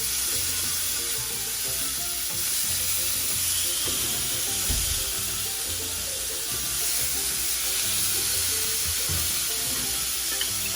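Salmon fillet sizzling in a frying pan just after being turned over, a steady close hiss and crackle of frying with occasional soft pops throughout.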